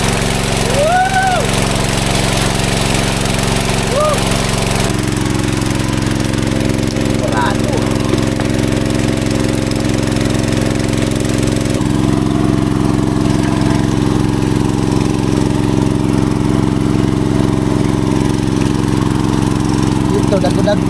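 A small engine, apparently a sprayer motor brought along for fish trapping in a field, drones steadily and loudly throughout while people talk over it.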